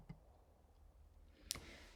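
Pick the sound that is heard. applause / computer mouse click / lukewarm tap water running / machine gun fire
computer mouse click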